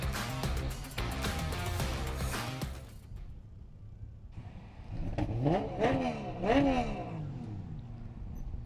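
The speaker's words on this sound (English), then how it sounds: "That's a happy little rev from the driver of the Rockhampton 78" Speedway race sedan engine revving at Toowoomba Speedway from the Rockhampton number 78 car, the first seconds thick with loud crowd and announcer noise, then a few rising revs swelling up, near and fairly loud.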